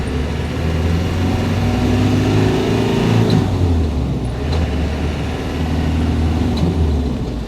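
A red 1992 Land Rover Defender with a 2.5-liter engine runs close by, a deep, steady rumble with a slight rise in revs partway through, continuous and with no one talking.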